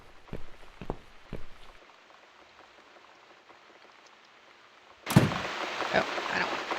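Rain patters and hisses in The Cat Lady video game, first faint with a few thuds, then bursting in loud and dense after a few seconds.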